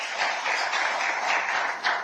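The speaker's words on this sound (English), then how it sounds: "Let's give you a big round of applause." Audience applause at the African Children Climate Summit in Addis Ababa: a steady, moderately distant wash of many hands clapping, continuous and even, with a brief swell near the end.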